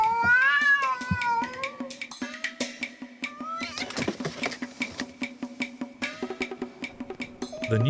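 A cat meows repeatedly in clear, rising and falling cries, near and loud, followed by a quicker series of pattering taps and scuffling sounds.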